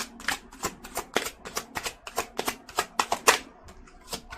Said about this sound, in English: let me pull a few more cards here